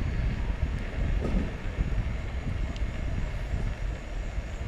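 An EcoReco M5 electric scooter rides at speed with a steady, dense rumble of wheels on pavement and wind noise close by, loud and unbroken throughout.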